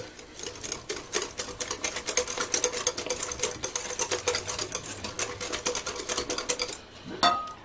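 A spoon stirs a dough mixture with orange zest and vanilla in a bowl, making a fast run of clicking, scraping strokes that pause briefly before one last clatter near the end.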